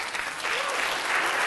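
A congregation's hand clapping during a sermon, a dense burst of many hands that swells louder partway through, with a faint voice briefly under it.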